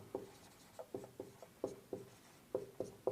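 Faint, rhythmic scratching strokes of writing during a Class 10 maths lesson on surface area, with short marks repeating every few tenths of a second and no speech.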